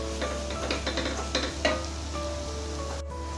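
Chopped tomatoes sautéing in a pan for a Kerala-style nadan chicken curry, a steady soft sizzle with scattered stirring scrapes and clinks close by, no talking.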